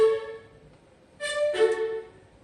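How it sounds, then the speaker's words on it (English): A short, unique string part from a beat: a soft sustained tone that swells into a brighter, louder string phrase near the end, alone with no talking. "And the string sound like this."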